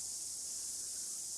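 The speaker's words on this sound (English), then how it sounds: "You can hear the cicadas." Cicadas trill in a steady, unbroken high buzz that carries through the whole moment at an outdoor site near the old Brunner Mine in New Zealand, with no other sounds breaking in.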